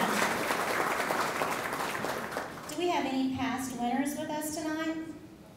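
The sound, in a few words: audience applause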